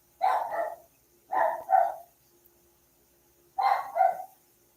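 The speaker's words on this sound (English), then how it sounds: "I don't know what they're barking at. They're just barking to bark because they can." Dogs bark outdoors in three separate bursts of two barks each, moderately distant and clear against a quiet background.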